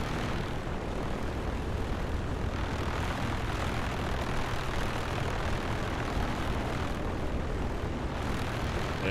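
An A2A Comanche propeller plane taxiing in Microsoft Flight Simulator 2024, a steady droning engine and propeller hum held at an even, constant level throughout.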